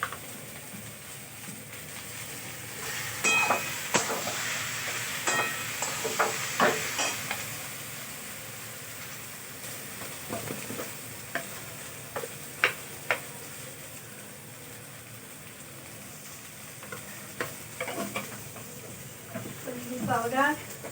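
Raw plantain with ginger frying in a pan, a low steady sizzle broken by intermittent clinks and scrapes of a spatula stirring, fairly faint and close, with no one talking.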